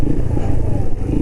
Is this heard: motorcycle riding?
yes